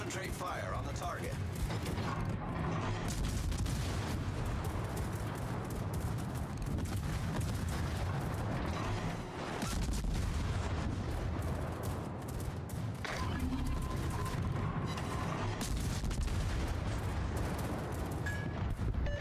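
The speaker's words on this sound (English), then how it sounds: "All stations, concentrate fire on the target." Warship guns fire in a naval battle video game, dense booming blasts and rumbling detonations packed close together over a constant loud roar, with people talking through it.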